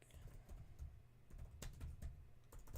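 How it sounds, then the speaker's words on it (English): Rapid, irregular typing on a computer keyboard, faint and fairly close, with clustered key clicks and short pauses between bursts. "Now I start typing like a fiend."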